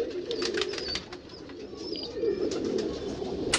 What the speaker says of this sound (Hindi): गाइस एक मेरी फेवरेट कबूतरी है